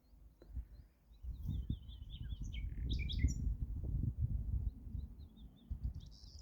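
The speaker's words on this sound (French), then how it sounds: "Et vous avez les oiseaux qui nous ont accompagnés, si vous les avez entendus." Songbirds chirp and trill in a Pyrenees village, bright repeated calls rising above a low steady rumble of ambient background noise, with no one speaking.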